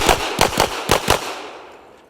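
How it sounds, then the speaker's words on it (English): Rapid string of five or six sharp gunshots fired during a shooting timer drill, loud and close, with echoes trailing off after the last shot. "Now I can shoot."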